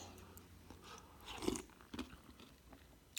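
Someone chews crunchy freeze-dried strawberry granola up close, a few quiet crunches and bites spaced out in an otherwise still setting.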